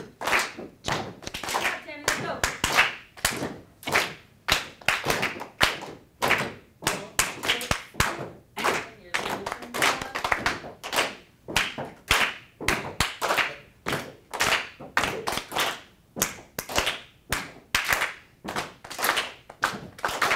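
Group hand clapping in a call-and-response rhythm lesson, sharp claps and stomp-like thuds repeating in patterned bursts throughout, close and loud, with brief spoken cues between phrases.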